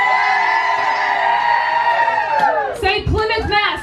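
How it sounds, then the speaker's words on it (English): Crowd at a live show in Plymouth, Massachusetts, swelling into loud whoops and screams over a sustained, held voice that gives way to overlapping yells near the end. "So everybody put your hands in the air and scream."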